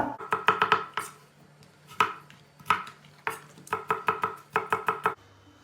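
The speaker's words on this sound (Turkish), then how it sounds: "Tavuğu nasıl doğradıysak havucunu patatesini de o şekilde doğrayacağız" Close knife chopping of carrots and potatoes on a cutting board, quick bursts of rapid taps separated by short pauses, crisp and distinct.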